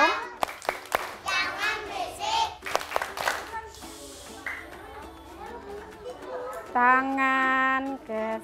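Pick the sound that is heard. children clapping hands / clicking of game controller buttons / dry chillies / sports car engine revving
children clapping hands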